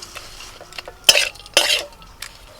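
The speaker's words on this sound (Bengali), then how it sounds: "বাদামটা ভালো করে পুরের সাথে মিশিয়ে নেব" A spoon scrapes and stirs crushed peanuts into a thick mushroom chop filling in a bowl, with a few sharp, close strokes between quieter moments.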